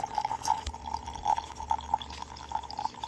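Coffee streams into a cup for an iced coffee, a thin steady trickle with small splashy drips, close and fairly quiet against a faint background.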